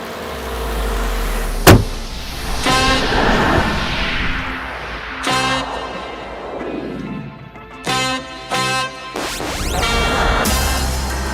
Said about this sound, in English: Yup, even in today's times, the V12 lives on. Not something that you hear often. And yes, it's running.